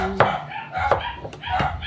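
Several short, sharp chicken squawks close by, each a quick burst with brief pauses between, and no talking.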